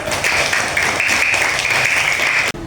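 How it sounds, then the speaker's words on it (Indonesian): Schoolchildren of class 3B clap together in a classroom, a dense, steady burst of applause that holds for a couple of seconds and then cuts off abruptly. "tepuk tangan dulu untuk anak kelas 3B"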